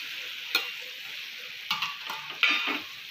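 Sabudana khichdi with crushed peanuts is stirred in a pan over a soft, steady sizzle, with several sharp spoon scrapes and knocks punctuating it in uneven bursts, close and clear, no voices.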